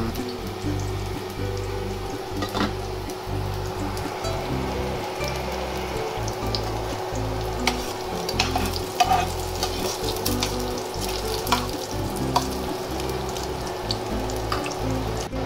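Garlic frying in oil in a pan while being stirred, a steady close sizzle with scraping and clinking of the utensil against the pan throughout.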